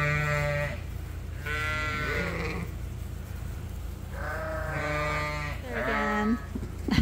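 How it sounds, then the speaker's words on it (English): Lambs and sheep on a farm bleat in several long, wavering calls, a pair early and another pair later, fairly close over a steady low background rumble. "Hard to believe they're lambs, some of them."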